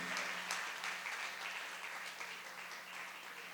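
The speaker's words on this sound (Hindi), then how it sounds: "उनके लिए ताली तो बजाओ" A crowd at a religious discourse gathering claps together in a dense, steady wash of applause, moderately distant, holding through and easing slightly toward the end.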